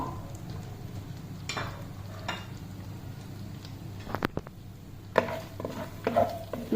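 Dry masala goes into hot oil for fish biryani, a low, steady sizzle with a few scrapes and clinks of a spoon against the pot.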